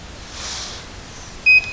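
A handheld laser therapy device for breaking up scar tissue gives a short, clear electronic beep near the end, following a faint hum.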